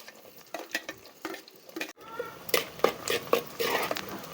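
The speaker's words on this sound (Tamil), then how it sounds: "ஒரு பத்து பல் பூண்டு உரித்து வச்சுருக்கேன் அதையும் போட்டு தாளிச்சிக்கலாம்" Onions and garlic cloves being tempered in hot oil, a close crackling sizzle with a sharp burst after a brief pause and repeated stirring clatter in the pan, with possible faint talk.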